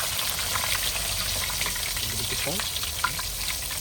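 Freshly caught fish sizzles steadily in a frying pan in a continuous, fairly loud crackle. Faint talk sits under the sizzle.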